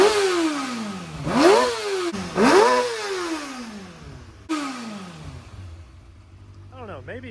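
A Kawasaki ZX6R motorcycle with a modified exhaust is revved up and down several times nearby, its pitch sweeping up and falling back, then settling toward a low idle.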